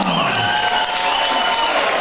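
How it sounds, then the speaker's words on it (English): A crowd at a boxing club season opener applauds after a bout decision, a continuous wash of clapping and cheering from a hall full of spectators. "Ladies and gentlemen, can you applause one for his opponent, Riley Fetter?"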